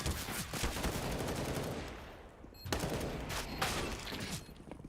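Scout rifle gunfire during a Perfect World CS:GO match, loud sharp shots and bursts of gunfire layered over dense game noise, with a brief lull midway before more firing.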